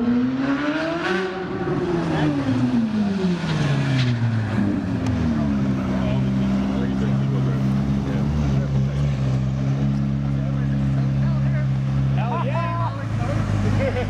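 A V8 engine runs and revs: a loud, rumbling tone climbs and falls in a sweep, then settles into a steady deep drone, with faint voices underneath.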